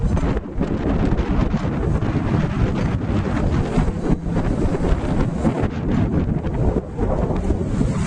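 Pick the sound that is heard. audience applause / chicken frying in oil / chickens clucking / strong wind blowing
strong wind blowing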